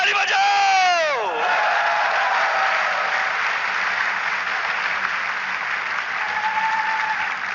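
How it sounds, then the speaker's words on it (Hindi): Audience applause at an Amway Diamond recognition for Girish and Priti Shambyal: loud, dense clapping from a large crowd that carries on steadily, with a rising whoop or cheer at the very start. "ताली बजाओ"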